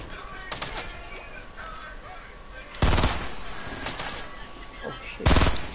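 Video game gunfire, with two loud, abrupt bursts of shots a few seconds apart over a busy background of fainter game sounds.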